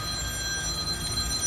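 A mobile phone rings with an incoming call in a hotel room, a faint, steady electronic tone heard alone without talk.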